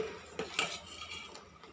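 A spoon stirs boiling wheat rava porridge in a metal pot. It clinks and scrapes against the sides in a few quick, quiet strokes, with a faint bubbling underneath and no talking.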